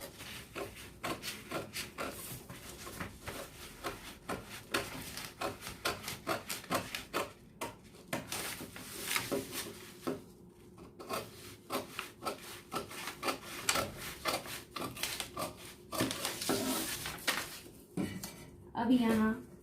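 Scissors cutting blouse fabric, starting with the back piece, giving a steady run of close, quiet snips and rubbing scrapes on a table, with a brief louder clatter near the end.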